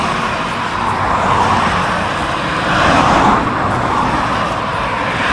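Vehicles race past at 60 to 70 mph on an A road bordered by a narrow footpath and hedge, a loud, close roar of tyres and engines swelling as one car sweeps by mid-way.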